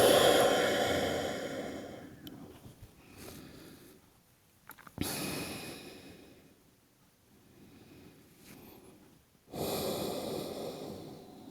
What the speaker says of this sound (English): Just taking those energizing inhales. And releasing tension on the exhales.